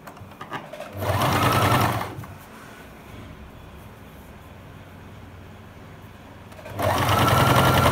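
An electric sewing machine stitching a pillow cover in two short whirring runs, one brief and one starting near the end, with a quiet gap between.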